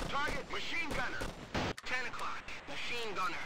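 Gunfire from the Operation Flashpoint military video game bursts out in quick shots under nearly continuous excited talk from players.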